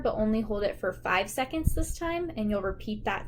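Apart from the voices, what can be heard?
No distinct noise like a dog, phone or traffic.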